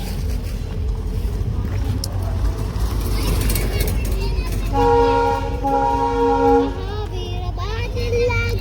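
A train rumbles past with a continuous roar, and partway through a long horn blast sounds loudly; voices are faintly audible beneath.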